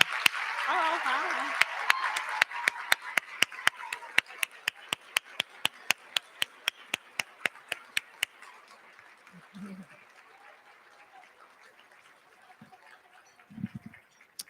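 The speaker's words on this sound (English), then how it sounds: "we'll give them a big round of applause" Audience at a Women of Achievement award celebration applauds honorees standing in the room. A brief wash of clapping fades into evenly spaced, crisp single claps that taper off, with a voice heard faintly near the end.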